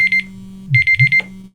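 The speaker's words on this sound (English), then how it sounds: "My alarm!" Electronic alarm clock beeping in rapid pulsed bursts, a short run of beeps followed by a longer string after a brief gap, close and loud over a low hum.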